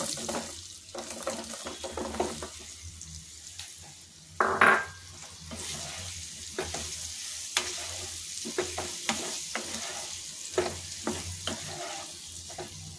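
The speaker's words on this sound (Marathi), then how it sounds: "आता आपण आंबा चिरून घेतलेला आहे, त्याच्यामध्ये आंबा घालून घेऊया।" Chopped raw mango is stirred into cooled oil tempering for a quick mango pickle, giving a steady wet stirring and scraping close up, with a brief louder clatter partway through and no voices.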